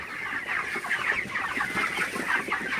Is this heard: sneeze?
no